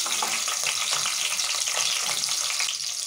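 Onions tossed into hot oil with chillies hiss in a dense, loud, continuous sizzle right up close, with no voices.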